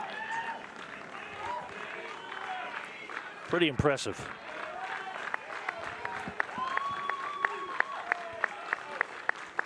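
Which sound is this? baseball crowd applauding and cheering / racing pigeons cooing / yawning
baseball crowd applauding and cheering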